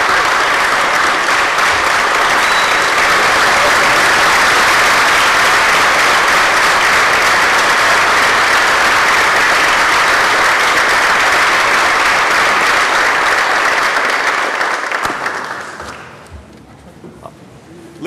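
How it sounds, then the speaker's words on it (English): Loud, dense applause fills the New York State Senate chamber, holding steady for about fifteen seconds before fading quickly into quiet room noise. "Ladies, we're going to clap again for you"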